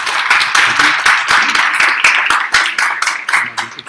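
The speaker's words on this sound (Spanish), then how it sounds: "Por favor, démosle un aplauso al doctor." An audience at a nephrology medical talk claps for the doctor, with loud, close, uneven hand claps forming a sharp, choppy burst that thins out toward the end.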